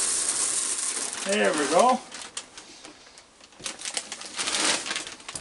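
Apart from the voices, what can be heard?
handling a resealable plastic bag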